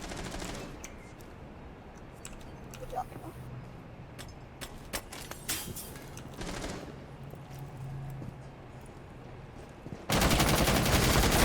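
Rapid bursts of gunfire from the video game Rainbow Six Siege crackle in quick rattling volleys, loud and close, with a louder sustained burst near the end and no talk over it.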